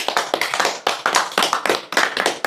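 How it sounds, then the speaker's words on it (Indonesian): An audience at a religious talk claps on request in several short, uneven bursts with brief gaps between them, close and fairly loud. "Tepuk tangan dong."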